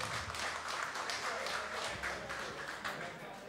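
Applause from guests at the opening ceremony of an international art exhibition in a modern art gallery, a fairly quiet, steady patter of clapping with some indistinct voices mixed in.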